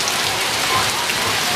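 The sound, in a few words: heavy rain falling in Fiji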